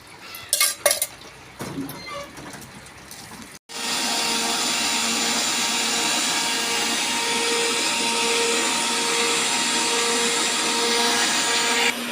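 A few kitchen clinks, then a mixer grinder grinding leaves starts and runs with a loud, steady whirring drone that fills the rest.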